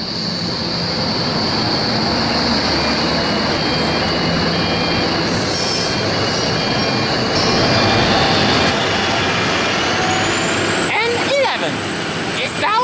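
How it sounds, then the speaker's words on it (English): A passenger train rumbles steadily close by as it pulls into a station platform, with sharp wheel squeals rising near the end as it slows. "Arriving on the platform number 1 on a Campbelltown service."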